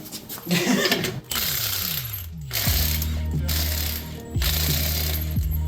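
An impact wrench with a 3/4 inch socket working on a truck U-joint repair gives loud ratcheting hammering bursts with falling pitch sweeps, close and mechanical, separated by short pauses.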